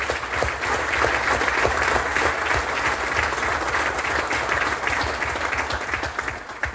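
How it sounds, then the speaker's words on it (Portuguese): An audience at a solemn municipal day session in Pampilhosa da Serra gives sustained applause for local mayors, a thick, even wash of clapping that holds steady throughout. "a todos os autarcas, eu peço também a minha salva de palmas e a minha homenagem"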